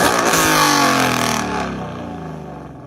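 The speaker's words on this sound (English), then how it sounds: "a loud, thunderous engine revving sound screamed from the dark threshold" A car engine revs loudly and roars at full throttle, then gradually fades and winds down as it recedes.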